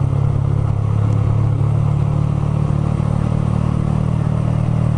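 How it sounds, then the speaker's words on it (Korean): A Honda Ape 100 mini motorcycle rides along a coastal road in Tongyeong, its 100cc engine a steady loud low drone with constant wind rumble and no talk. "이 작은 바이크 타는 매력이죠"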